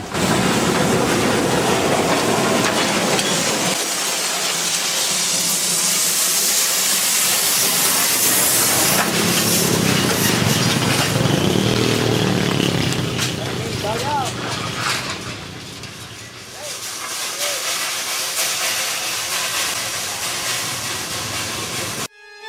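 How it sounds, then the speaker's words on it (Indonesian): Working steam locomotive at a sugar factory with cane plantation lines, hissing loudly and steadily for a long stretch, with a brief dip before the hiss surges back, under clanking rail noise. "saya menemui loko-loko uap yang masih beroperasi"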